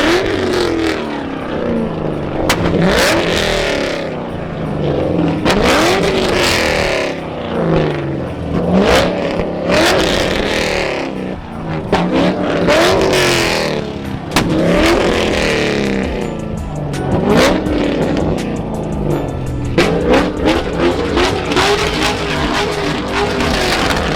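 Car engines revving hard in repeated bursts, rising and falling in pitch, loud and close, with large flames shooting from the exhaust and crowd noise around them at a holiday car show.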